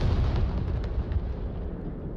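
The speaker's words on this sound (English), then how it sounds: "Confirmation nade going out." Grenade explosion in the VR shooter game Onward during a tournament match, a loud low boom with a rumbling tail that slowly fades.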